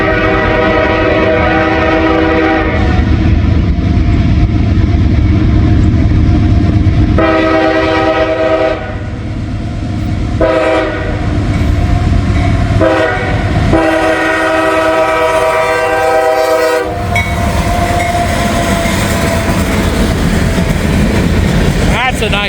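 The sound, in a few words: rebuilt locomotive L411 train passing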